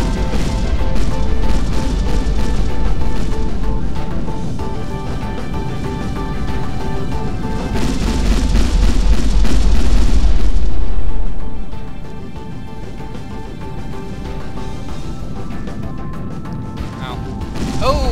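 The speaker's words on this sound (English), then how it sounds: "Wheel around to fire our forward cannons at it." Heavy, rumbling spaceship cannon fire in the video game Kinetic Void booms and crashes over a dense background score, building to a loud burst before settling into a quieter droning mix.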